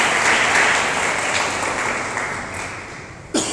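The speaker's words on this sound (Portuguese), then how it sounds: "Vamos aplaudir a Sagrada Escritura" A Catholic congregation applauding the reading of scripture, a dense round of clapping that slowly fades over a few seconds before a sudden short bump at the end.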